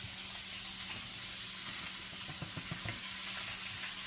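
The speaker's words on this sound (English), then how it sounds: "You're going to hear this sizzle really quick." Vegetables and beef sizzling in olive oil in a hot cast iron pan, a steady bright hiss with small crackles and spits throughout, close up and without talk.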